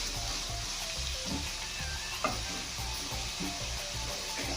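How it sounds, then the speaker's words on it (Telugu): Onions fry in a pan toward golden, making a steady, fairly quiet hiss with soft stirring scrapes and one small knock, heard close and alone without talk. "కొంచెం ఆనియన్స్ వేసుకొని కొంచెం ఫ్రై చేసుకోవాలి. అంటే గోల్డెన్ కలర్ వచ్చే వరకు మనం ఫ్రై చేసుకోవాలి."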